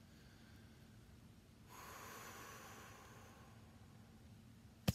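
One slow, deep breath drawn in and let out near the microphone, quiet and airy against faint background hiss, followed by a brief click at the end.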